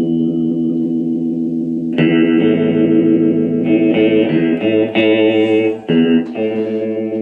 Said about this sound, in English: It's got a vibrato channel here.